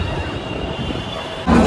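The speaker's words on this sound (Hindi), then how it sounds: "ट्रेन अभी अभी प्लेटफॉर्म पर आई है, मतलब आई भी नहीं है, बस आ रही है" Metro train pulling into a crowded underground station platform, a steady low rumble and hum with a brief louder swell near the end.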